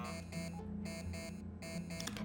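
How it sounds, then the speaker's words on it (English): Low-power warning beeping from the Tin Can video game, a system fault with a blown fuse: a steady run of repeated electronic beeps in an even rhythm over a constant low hum. "Yes, there's a lot of beeping."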